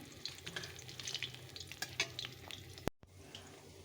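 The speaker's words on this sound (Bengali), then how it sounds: "চলো আগে মাছগুলো ভেজে নিই" Fish fries in a pan with a busy, crackling sizzle and frequent stirring scrapes, close and fairly quiet, ending in a brief cutoff, with no voices.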